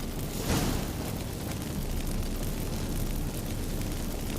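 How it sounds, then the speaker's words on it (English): A magic fireworks effect from the video game The Witcher 3 bursts out as a dense, roaring whoosh with a sharp swell near the start, then settles into a sustained broadband rumble that stays loud throughout. "Get ready for some magic fireworks."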